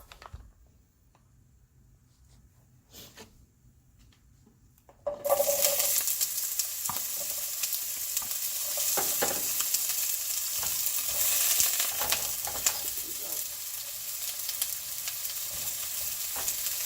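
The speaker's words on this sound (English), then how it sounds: "you're just gonna kind of stir fry it like you would normally" Zucchini dropped into hot oil bursts into a loud, steady sizzle after a few quiet seconds, with intermittent stirring scrapes and pops continuing close up to the end.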